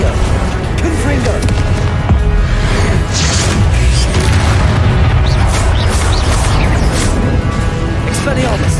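Confringo explosion spells in Hogwarts Legacy go off in a loud, dense barrage of booms and crashing bursts amid constant combat noise, with voices mixed in.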